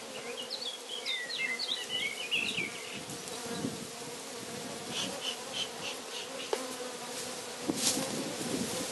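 Honeybees from a drone-laying colony hum in a dense, steady close drone that fills the whole stretch, with a few faint bird chirps early on and small knocks near the end.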